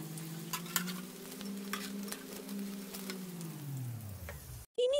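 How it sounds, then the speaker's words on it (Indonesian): Shrimp-filled spring rolls frying in hot oil, a steady close sizzle with scattered pops and crackles running throughout, then a brief clatter at the very end. "Mari kita goreng."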